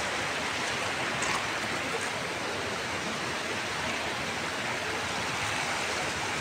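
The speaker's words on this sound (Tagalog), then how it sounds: "Ang lakas ng agos, Loy." A strong river current rushes in a continuous broadband roar, steady and close, with no clear voices over it.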